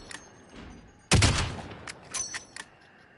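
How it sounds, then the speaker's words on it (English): Gunfire in the Warzone video game on PS5: one sharp, loud blast followed by a few quicker, fainter shots and thuds over a quiet background. "Don, that's where I was shooting from"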